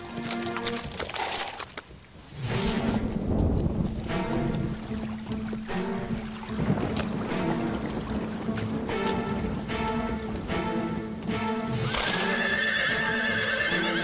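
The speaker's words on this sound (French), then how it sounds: "Il faut rentrer les chevaux dans l'écurie." Horses whinny and neigh repeatedly while hooves clip-clop, with a soft watery background wash of a storm throughout, at moderate distance.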